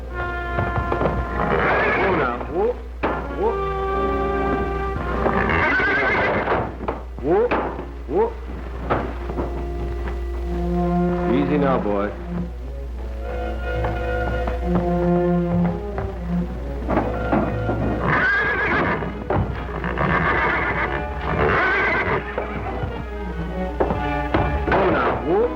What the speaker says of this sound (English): We're going to show him what a swell horse you really are.